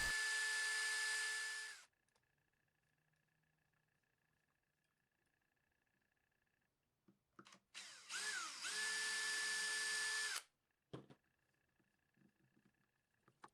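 Two bursts of a high-pitched power drill boring screw holes in wood, each winding up, whining steadily, then spinning down, with quiet pauses and small clicks and knocks in between.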